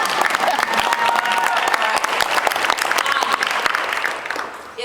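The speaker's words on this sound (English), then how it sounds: "So you guys need to clap for them right now." A crowd at a girls' track and field state championship pep rally bursts into sustained, loud applause with scattered cheers and voices mixed in, holding steady for several seconds before tapering off near the end.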